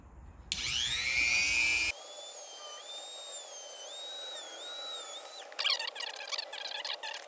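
A Dremel rotary tool cuts into a ditch light bracket, giving off a high, whining buzz that stops, restarts and shifts in pitch across several passes, ending in rough grinding.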